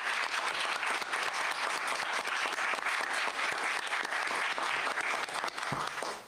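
Dense, steady applause from the audience at a legal colloquium, honoring panel participants, continuous and full throughout with a slight fade at the very end.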